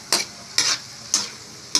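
Pan sauté of onion, tomato, garlic and ginger: four short bursts of sizzling and stirring come about half a second apart, close up and fairly loud, with quiet gaps between them and no talk.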